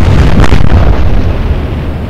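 Torpedo hits explode against an enemy ship in the naval combat game Atlantic Fleet, a loud, sustained rumbling blast with a sharp burst near the start, booming and slowly tapering over two seconds.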